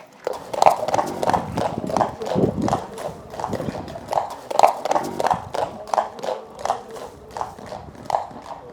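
A big 1,500-pound horse clip-clops in a steady, rhythmic run of heavy hoof clunks, close and distinct, with a brief snort or whinny mixed in.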